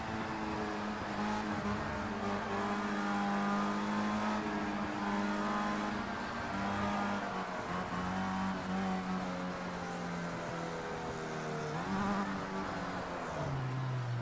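Race car engines in Project Cars 2 roar continuously at high revs, with pitch rising and falling through gear changes, loud and close over a full field of cars.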